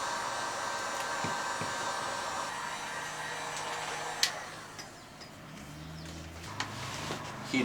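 A heat gun warms vinyl wrap on a car's rear wing for a GS300, giving a steady, fairly loud hair-dryer-like blowing hiss that runs throughout, with a few faint clicks and handling knocks near the end.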